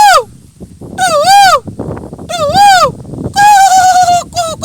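A human voice mimics the call of a koel cuckoo, giving loud, close, whistling hoots that rise and fall in several separate bursts, the last ones held longer.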